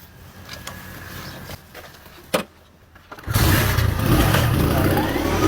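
A motorcycle engine roars up suddenly after a quiet stretch with scattered knocks and one sharp thump. It then holds a loud, steady, close revving drone to the end.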